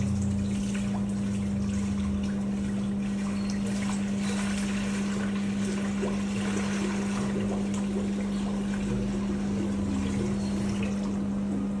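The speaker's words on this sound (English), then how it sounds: "first thing you need to pour this warm water inside this hopper." Warm water pours steadily into the hopper of an ice cream machine alongside a constant mechanical hum with a strong tonal drone, a continuous wash of liquid sound with no talking.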